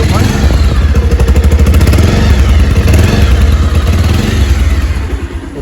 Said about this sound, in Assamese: গতিকে চাওক এবাৰতে ষ্টাৰ্ট হৈ গৈছে